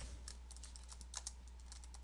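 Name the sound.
typing on a computer keyboard to rename an Excel worksheet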